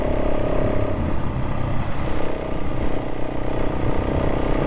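A KTM 690 SMC-R single-cylinder motorcycle runs along tight, bumpy back lanes with some gravel, its engine droning steadily and loud from close by with slight rises and dips in pitch.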